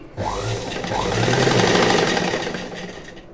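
A sewing machine stitches a fall onto the edge of a saree, whirring steadily and close, its motor rising slightly in pitch and loudness through the middle before easing off.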